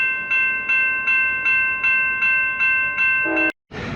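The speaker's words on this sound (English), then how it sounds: "there's the Amtrak, as you can hear and see" An Amtrak passenger train rolls past nearby at Martinez station, California, with a steady clatter of wheels over rail joints, regular thumps repeating about every third of a second, then an abrupt cut.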